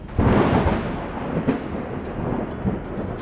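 Thunder rolls through a thunderstorm as a loud, continuous low rumble with several heavier swells and cracks. No voices are heard.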